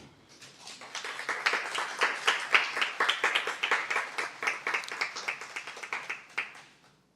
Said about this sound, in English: Thank y'all for the clapping.